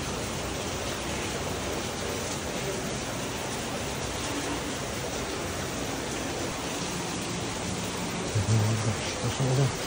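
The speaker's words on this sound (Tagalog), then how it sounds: "lumakas yung ulan" Steady heavy rain from Typhoon Kristine hisses and patters nonstop in Laguna, Philippines, close and dense, with a few faint low thumps near the end.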